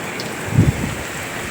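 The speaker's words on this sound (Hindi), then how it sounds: "नीचे दिख रहा है बहुत तेज बारिश हो रही है।" Very heavy rain pours down outside a doorway in a dense, steady roar of hiss and spatter, loud and close, with a brief low rumble partway through.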